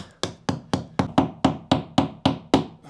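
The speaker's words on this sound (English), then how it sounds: "I've opted for a smaller hammer on this" Ten sharp blows of a small hammer nailing a wooden fascia board on a garden room, at a steady, even pace, close and fairly loud, each strike ringing briefly before the next.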